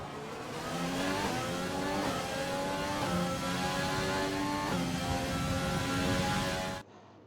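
A Formula 1 car from the F1 2020 racing game at Monaco screams through a qualifying lap, engine pitch climbing and dropping through gear shifts, loud and steady for about seven seconds before cutting off abruptly.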